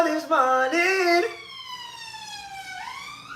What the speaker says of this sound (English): Can you hear the ambulance trying to ruin my whole vibe?